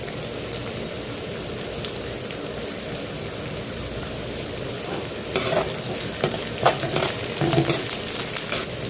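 Mustard seeds, chana dal, urad dal and curry leaves fry in hot tempering oil for hotel-style upma, a continuous close sizzle that breaks into sharper crackles and pops partway through.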